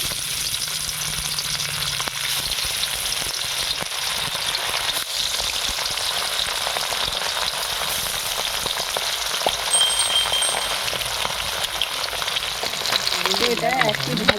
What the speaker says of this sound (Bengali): আমি এখানে সর্ষের তেল দিচ্ছি। তো এখানে তেলটা গরম হয়ে গেছে। আমি এবার মাছগুলো দিয়ে দিচ্ছি।